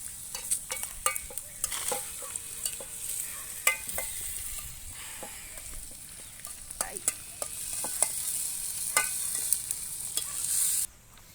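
Bread toast poriyal with tomato and turmeric is stir-fried in a pan. A spatula scrapes and clatters in irregular strokes over a bright, continuous sizzle that swells toward the end.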